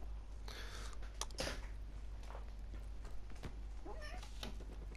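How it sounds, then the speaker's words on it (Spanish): A pet cat meows near a home gaming setup, a couple of faint drawn-out cries rising over a steady background hum along with a few soft clicks and bumps, somewhat distant and quiet. "Mi gata Estaba dando por saco."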